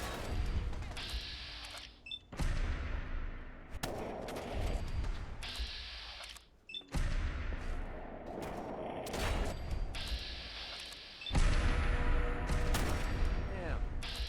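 Companion's gun firing in Fallout 4, repeated bursts of rapid gunfire broken by short pauses, with mechanical clicks between volleys and talking heard in places.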